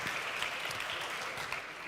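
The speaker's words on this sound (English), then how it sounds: "Another round of applause" An audience at a RomHack security conference gives a round of applause, a soft, even wash of clapping heard from a distance without a break.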